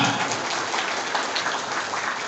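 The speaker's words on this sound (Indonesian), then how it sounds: "Tepuk tangan untuk seluruh Bang Japar se-Jakarta Selatan." Crowd applause for Bang Japar members of South Jakarta at a reunion gathering, a steady dense wash of clapping that holds loud and even throughout.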